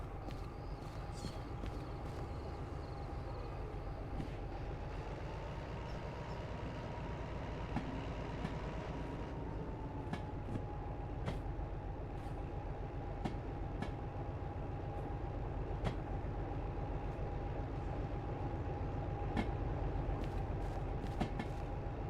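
A train starts moving off in a video game, a steady rolling rumble with a faint sustained whine and regular clicking of wheels over rail joints continuing for over twenty seconds, no voices.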